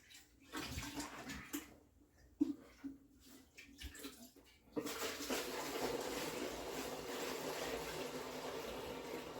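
Liquid corn mash for moonshine pouring and straining through a cloth bag, scattered splashes and handling at first, then a steady continuous gushing rush of liquid for the second half.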